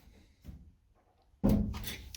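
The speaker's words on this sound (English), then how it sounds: "Let me open the door." A car door on a Rover Metro race car under rebuild opens with a soft click, then a louder clunk and rattle as it swings, close by in a quiet workshop.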